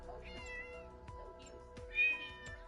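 A cat meows for food, giving several drawn-out, tonal cries close by with a louder, higher call near the end, over a steady low hum in the room.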